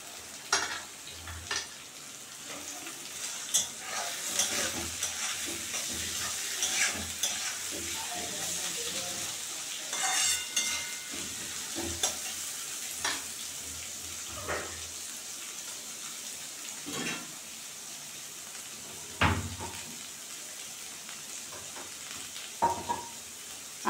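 Capsicum, carrots and beans tossed in a pan for chicken chow mein, a soft steady sizzle broken by scattered scraping clatters of the spatula stirring the vegetables, fairly quiet and close with no talking.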